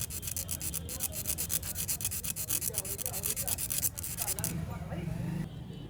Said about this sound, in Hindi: तो इसको रेती की सहायता से हमें थोड़ा फ्री करना है, रगड़ना है।